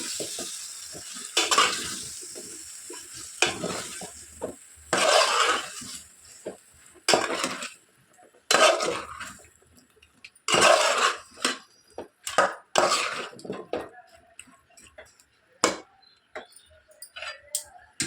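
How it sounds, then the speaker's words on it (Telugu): Potato and brinjal curry, Muslim style, is stirred in a pan: intermittent scraping and clinking strokes of a spoon over a soft sizzle, close and uneven. "ఇప్పుడు ముందుగా ఒకసారి బాగా మిక్స్ చేసుకోవాలి."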